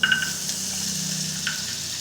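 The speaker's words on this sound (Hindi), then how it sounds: "अब इसमें मैं मक्खन डालूंगी।" Butter melts and sizzles in a pan over a low flame as white sauce for pasta begins, a steady soft hiss with a brief clink of utensils at the start and again midway.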